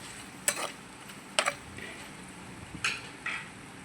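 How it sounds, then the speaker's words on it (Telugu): Carrot curry with turmeric and salt is stirred in a pan, with a few separate spoon scrapes and clinks against the metal, some sharper than others. A soft sizzle runs quietly underneath and no one speaks. "ఒకసారి తిప్పుదాం ఫ్రెండ్స్"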